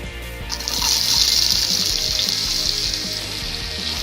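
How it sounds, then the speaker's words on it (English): Onions frying in oil in a pan after dry red chili, cinnamon, cardamom and cumin seeds, a steady close sizzle rising after a half-second and holding throughout with no talking. "Now we have to fry the onion till they turn golden brown."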